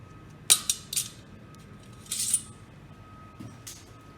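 Milwaukee mini flush cutter snipping, a few sharp metallic clicks and brief clipped snaps spread out with short pauses between them, quiet and close with no talk.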